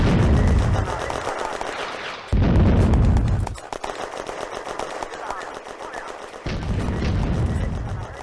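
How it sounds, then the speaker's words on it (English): Soviet mortar fire in a Firefight wargame battle in the woods near the Babinovichi farmsteads: loud, booming blasts with gunfire crackling in between, a heavy burst at the start and others following through the stretch. "More Soviet mortars in the woods"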